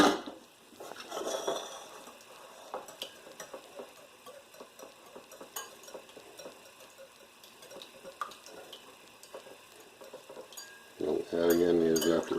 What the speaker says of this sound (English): I'm going to beat the eggs and add in the evaporated milk